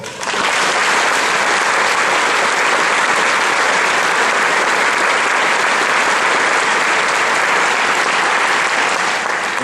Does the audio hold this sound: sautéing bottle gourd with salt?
no